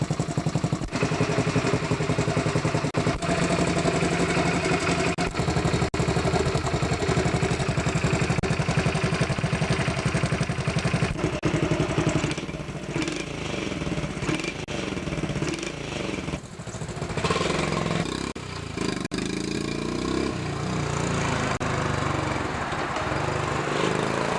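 The small engine of a 1985 Honda CT70 mini bike idles steadily nearby, a continuous chugging putter with some clatter and slight wavering, running alone.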